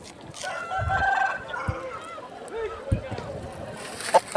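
A large Aseel rooster at the Balrampur poultry haat in West Bengal gives short clucks and a crow-like call amid busy outdoor market noise and nearby chatter.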